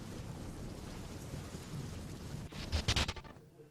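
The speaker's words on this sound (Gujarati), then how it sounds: "સમગ્ર વલસાડ જિલ્લામાં વરસાદી માહોલ યથાવત છે" Rain falls steadily across Valsad district, a constant broadband wash with a louder rumbling, crackling burst late on that could be thunder or heavy gusts, then a sudden drop.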